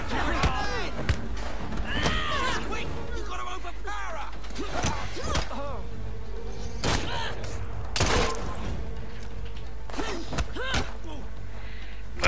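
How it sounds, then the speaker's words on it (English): Powerful gunshots in Assassin's Creed Syndicate, several sharp, loud cracks spaced irregularly, mixed with impacts and game effects. "That gun is quite powerful"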